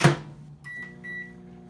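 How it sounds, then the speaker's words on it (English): A microwave oven heating seasoned crappie fish: a sharp door or button click, then a steady low hum with a faint electronic whine, close and fairly quiet. "Microwave"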